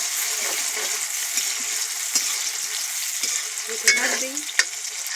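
Tomatoes frying in onion masala for a vegetable gravy, a constant bright sizzle from the pan with a few soft spoon clicks and stirring scrapes, close by.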